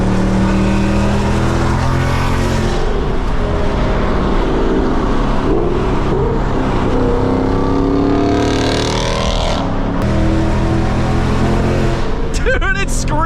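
A 2024 Ford Mustang GT with a full aftermarket exhaust idles and revs with a loud, deep V8 rumble, steady throughout with a brief lift near the end, under people talking nearby.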